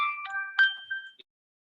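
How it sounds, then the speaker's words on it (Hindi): A phone chimes with a short electronic ringtone melody of a few tonal notes that ends abruptly, heard close and clear during a lecture, with no talking. "एक फोन आ रहा है, एक फोन अटेंड कर लो"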